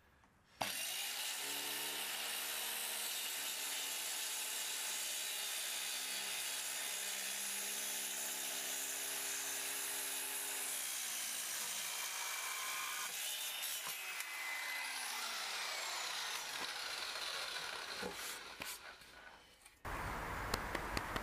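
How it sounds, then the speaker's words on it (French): A power saw cuts wooden boards for a Dadant beehive, a loud, steady whining cut with harmonic tones, shifting pitch midway before slowing and stopping, followed by a brief clatter. "une fois qu'on a tracé sur les planches, on passe à la découpe"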